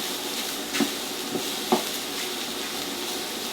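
Vegan bolognese of wild mushrooms sizzles steadily in a hot pan, a close, even frying hiss. Now and then a utensil stirs it with a few soft taps and scrapes, and nobody talks.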